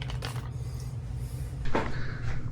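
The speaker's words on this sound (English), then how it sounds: "This is the barn door." A sliding barn door to the bathroom of a standard room at Universal's Sapphire Falls Resort rolls along its track, a short scraping slide with a bump, over a steady low room hum.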